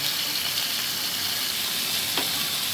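Cauliflower seasoned with a little turmeric fries in a pan, a steady close sizzle and crackle of hot oil throughout with a brief clink midway.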